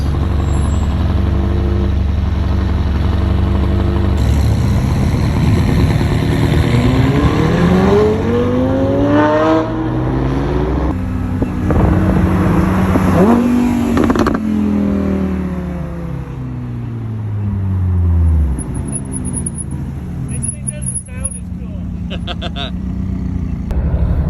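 Several sports cars roll in, including a Ferrari 458 Italia, an Audi R8 V10 Spider and a McLaren 570S. Loud engines rise and fall in rising and falling revving sweeps as they pass close by, with people talking over them.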